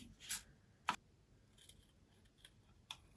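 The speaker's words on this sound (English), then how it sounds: "And then let's do some cutting." Scissors cut through cardstock flower shapes in a few crisp, quiet snips spaced unevenly, close up and alone in an otherwise hushed room.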